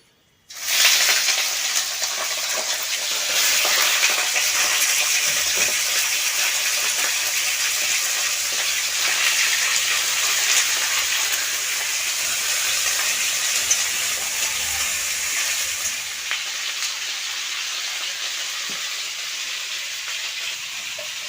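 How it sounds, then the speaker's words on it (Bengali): Chicken pieces drop into hot oil and fry with a sudden loud sizzle that starts abruptly, then holds as a steady bright hiss for about twenty seconds, easing slightly near the end, with no talk. "তেলটা হয়ে গেছে মাংসটা আমি ভেজে নেব কষা করব প্রথমে ভেজে নিলে খুব ভালো হয়"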